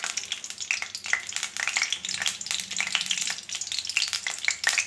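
Cumin and mustard seeds crackle and sizzle in hot oil for sambar, a steady close frying hiss with many sharp popping spits scattered throughout.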